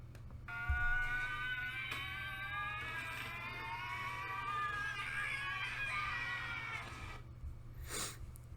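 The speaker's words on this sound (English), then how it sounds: "I know it's nothing but screaming" A long, high, wavering scream from the Big City Greens cartoon, sustained over several seconds with shifting pitch, faint and heard alone.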